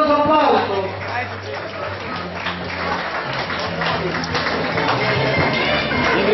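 Sustained applause from an audience at a 2013 school graduation ceremony, steady clapping throughout with voices and crowd noise mixed in.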